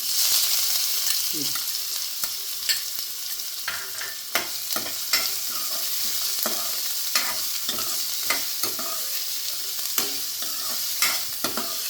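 Chopped onion frying in oil with cumin for a spicy gravy served with urad dal vadas, a steady close hiss with repeated scraping and tapping from stirring throughout, no talk.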